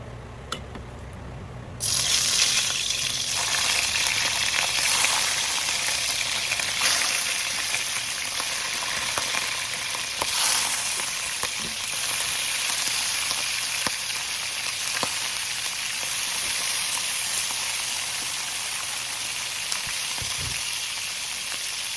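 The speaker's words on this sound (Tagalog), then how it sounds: "painitin lang po natin kawali, then mag-start po tayong magprito" Loud, steady sizzling of chicken frying in a hot pan, a dense crackling hiss that continues without pause, with occasional sharper pops and spatters.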